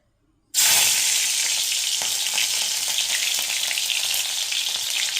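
Green chillies dropped into hot oil in a wok, a sudden loud burst of sizzling that settles into a steady, dense frying hiss, close and without talk.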